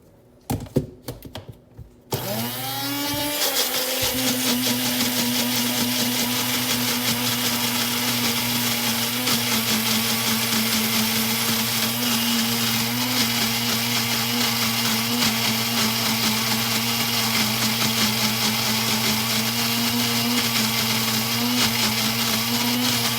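A blender runs steadily on a chili mixture for kimchi, a loud continuous whirring drone that starts after a brief burst of clatter and holds unbroken to the end, close up with no talk.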